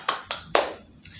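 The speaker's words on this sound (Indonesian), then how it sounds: "tepuk tangan untuk Rakata" A classroom of elementary pupils claps briefly for a student, three sharp separate bursts of applause and a faint fourth, close by and loud in a small room.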